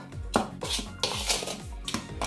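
A spoon scrapes and knocks around a bowl of vegan cupcake batter in quick, repeated strokes, with light clinks and soft rasps close by.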